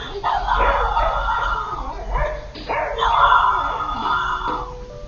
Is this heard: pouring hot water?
no